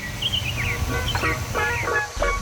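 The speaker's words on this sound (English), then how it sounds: "you can hear the birds chirping" A few faint bird chirps and short whistled calls sound at a distance in a forest over a steady low rumbling background.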